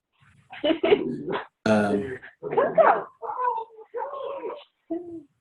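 A dog gives a series of short barks, yips and whimpering whines in several bursts, fairly close and clear, with some vocal sounds mixed among them.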